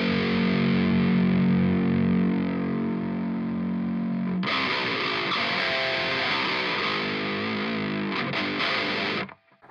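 An electric guitar played through a Joyo Dark Flame modern metal distortion pedal, a sustained heavily distorted chord that gives way to a brighter, buzzier distorted tone with tremolo-like wobble before cutting off, loud and close.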